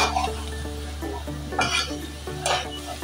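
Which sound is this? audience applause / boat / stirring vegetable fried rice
stirring vegetable fried rice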